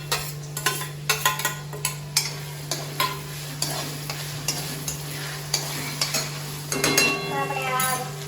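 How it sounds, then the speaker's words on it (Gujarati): Chopped tomatoes go into onions frying in a pan for pav bhaji, and a spoon stirs them with a run of rhythmic clanks and scrapes over a low sizzle, ending in a louder burst of frying. "અને આપણા કાંદા ચડી ગયા છે એટલે હવે આમાં ટામેટા નાખી દઈશું"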